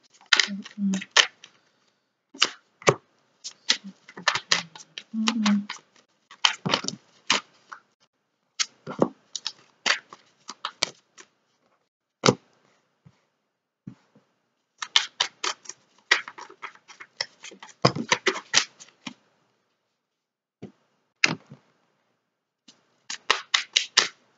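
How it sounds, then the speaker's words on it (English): Tarot cards are shuffled close by in quick bursts of crisp riffling clicks, starting and stopping repeatedly over a long stretch, with a voice heard at times. "If I didn't keep shuffling these cards"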